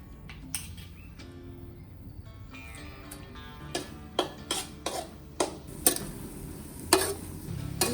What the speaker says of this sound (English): we start with using the coconut milk or coconut tail to cook the paste.